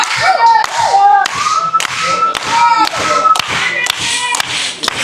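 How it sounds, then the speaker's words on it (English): Wrestling crowd clapping in a rhythmic unison beat at a tag team match, sharp regular claps with cheering voices and shouts layered between them, loud and close throughout. "Crowd getting into it here, trying to will Redus Atlas to the tag."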